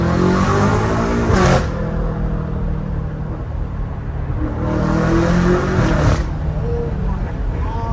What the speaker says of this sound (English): This new exhaust sounds so good.